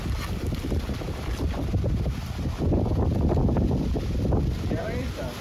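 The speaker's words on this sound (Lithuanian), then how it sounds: "Turim neblogą vėjuką." Strong gusting wind rushing and buffeting the microphone outdoors on a construction site, a rough continuous roar that swells and eases without letup.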